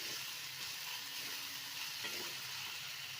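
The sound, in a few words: stirring and frying spices with garam masala in a pan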